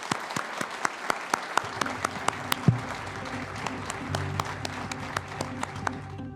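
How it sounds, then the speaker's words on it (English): Audience applause at a Republican U.S. Senate primary forum in Kentucky, a steady wash of clapping from a room of people with sharp individual claps standing out, moderately faint and without talk. "Let's give him a round of applause."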